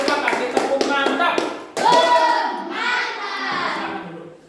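A school class claps in quick, uneven bursts, then voices chant and call out together in a rhythmic cheer.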